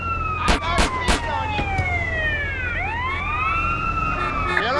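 A police siren wails in GTA San Andreas, its pitch sweeping up and down loud and close, with a few sharp impact bursts near the start and game noise underneath.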